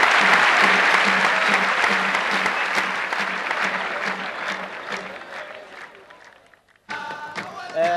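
Stadium crowd of about 7,000 applauding the players at a football farewell match for a Kuwaiti Qadsia player, a dense sustained roar of clapping that thins and fades, then cuts to a separate burst of applause.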